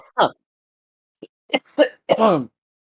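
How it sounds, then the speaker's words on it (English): A burst of harsh coughing, a few separate coughs spaced over a couple of seconds, loud and close, ending in a longer rasping cough. "I am coughing up a lung"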